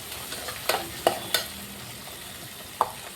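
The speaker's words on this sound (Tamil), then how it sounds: "தக்காளி நல்லா வதங்கணும்." Onion, garlic and tomato sauté in a pan for a pepper brinjal kara kuzhambu. A few sharp spatula clacks and stirring knocks sound over a soft, steady sizzle, close and without talking.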